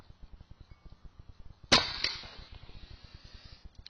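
A single sharp air gun shot rings out, fired across a chronograph, a loud crack followed by a brief ringing decay and a faint second tick, with quiet rhythmic ticking in the background.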